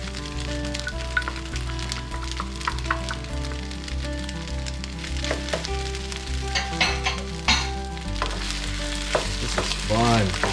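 Edamame going into Japanese-style ketchup fried rice, which crackles and sizzles steadily in a hot pan while it is stirred, with sharper spatters and scraping bursts over about ten seconds and no voices.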